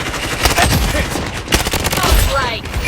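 Rapid AK rifle fire in the shooter game Blood Strike, loud and continuous bursts of cracking shots running throughout with a few heavier reports standing out.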